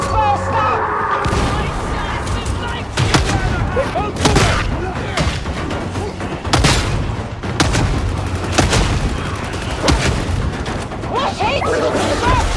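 Heavy gunfire in the video game Darktide, with repeated loud bursts and booms spread through the stretch, mixed with battle shouts and voices throughout.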